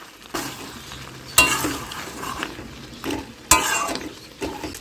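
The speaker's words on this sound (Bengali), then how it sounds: "দিয়ে একটু নেড়ে দেব।" Chopped tomato stirred into layer chicken frying in a pan, with a soft sizzle underneath and several distinct scraping stirs of a utensil against the pan at irregular intervals, close and moderately quiet.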